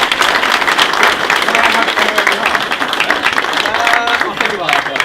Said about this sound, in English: we'll get a round of applause for her